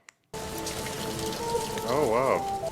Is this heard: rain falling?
yes